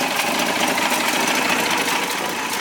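A 1958 Rambler Cross Country Wagon engine running in good shape, a steady close-up mechanical clatter with even rapid ticking and no pauses.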